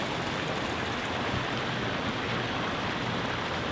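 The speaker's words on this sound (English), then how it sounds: "Little waterfall action down there." Small waterfall below a hotel balcony, a steady, soft rush of falling water heard from a distance, constant and unbroken.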